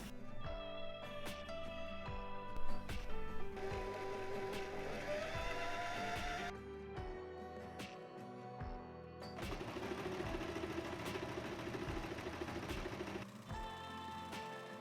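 Sewing machine top-stitching an orange dress seam, running in long steady bursts of rapid mechanical chatter with a short pause between, close and alone.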